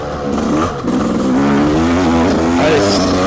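A vehicle engine revs up and accelerates, a loud close whine climbing steadily in pitch across the clip with no talk over it.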